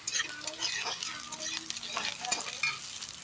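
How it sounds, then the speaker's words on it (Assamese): Onions and green chillies stir-fry in a hot wok for an Assamese pumpkin-leaf dish, giving a steady close sizzle and hiss with scraping stirs and occasional utensil clinks. "এতিয়া ভাজি ল'ম।"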